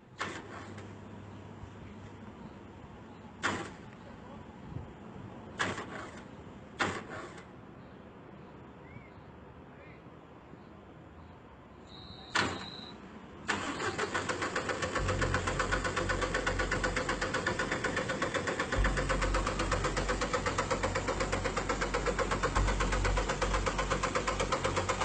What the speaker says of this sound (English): there was someone or something trying to turn on the bus engine